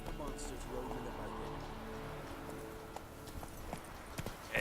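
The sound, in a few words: horse hooves clip-clopping while riding in The Witcher 3 video game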